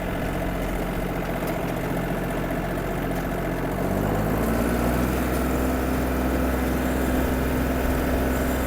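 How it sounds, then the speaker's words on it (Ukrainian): Yanmar AF-22 mini tractor diesel engine driving at top speed on asphalt, a loud steady drone close by that rises slightly in pitch midway and holds there. "отримали максимальну швидкість трактора"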